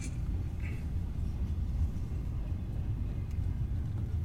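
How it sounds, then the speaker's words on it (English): A long coal freight train rolls past at a distance, a low, steady rumble of wagons that holds evenly throughout without horn or voices. "that's gonna be another mega coal train"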